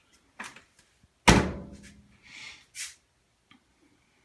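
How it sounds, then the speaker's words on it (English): The glass lid of a Samsung 9000 Series washer/dryer is lowered and shuts with one soft thunk, after a few light clicks and handling sounds, then brief rustles. "It's also an easy close lid, so you don't have to worry about it slamming."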